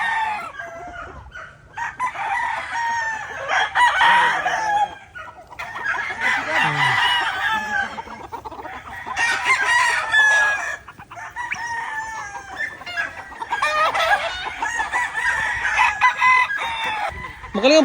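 Gamecock roosters crow repeatedly at a game farm, several long cock-a-doodle-doo calls from different birds overlapping with clucking, loud and close, and brief bits of conversation from people nearby in between.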